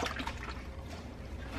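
A little water is poured into a pan of stir fry, a short close splashing trickle of liquid lasting under two seconds with no speech.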